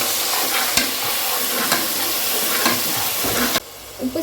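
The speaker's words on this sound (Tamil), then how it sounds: "வந்து எல்லாத்தையும் வந்து நல்லா கலந்து விட்டுக்கலாம்" Onion, ginger-garlic paste and green chilies sizzle steadily in a hot pan while being stirred, with a few sharp scrapes of the spoon against the metal and a near, continuous frying hiss throughout.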